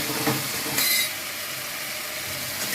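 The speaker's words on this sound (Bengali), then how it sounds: "মশলাটা ভালো করে কষিয়ে নেবো" Spice masala fries in oil for a jackfruit curry, with a constant crackling sizzle and a brief scraping stir, close and moderately loud, no voices.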